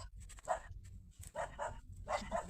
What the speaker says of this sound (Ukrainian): гавкає, стереже двір